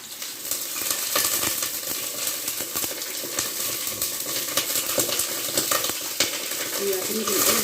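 Okra drops onto garlic frying in a pan, and a loud, close sizzle follows with scraping stirs and a few light metallic clinks throughout.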